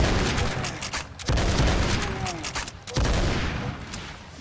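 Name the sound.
Demon's Bane shotgun firing in a video game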